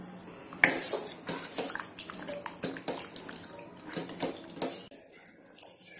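Water poured into a pot of rasam with cooked toor dal and tomatoes, a soft running splash with light clinks of utensils and pans nearby, fairly quiet overall.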